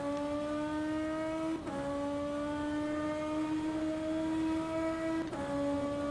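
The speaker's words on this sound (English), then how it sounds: "the car is incredibly fast, like turbo engine" Engine note of a BMW M4 DTM race car at Monza in rFactor 2, a loud sustained high-revving drone with two brief dips around gear changes, then climbing pitch again.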